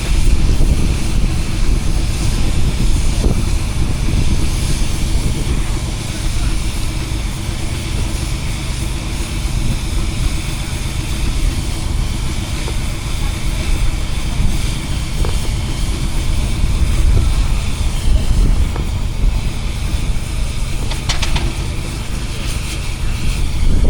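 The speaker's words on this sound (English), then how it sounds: "we're just backing the engines into their prime places for the old slalom race" Steam traction engines reversing slowly across an open show arena at Parham Park steam games, a steady low rumble and chuff of heavy machinery running continuously, with distant voices and crowd murmur mixed in.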